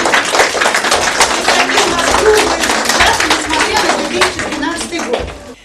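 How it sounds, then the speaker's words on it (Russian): Lively applause fills a school celebration for the start of the school year, dense clapping from a crowd of children and adults with voices mixed in, loud and close throughout. "Аплодисменты."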